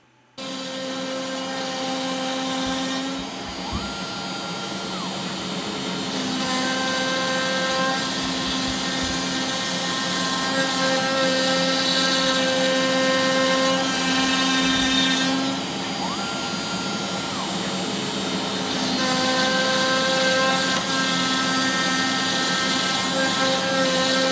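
An X-Carve CNC machine cuts a test carve into MDF, giving a loud, steady whine with sustained tonal hum that shifts pitch in a few sections, running continuously without speech.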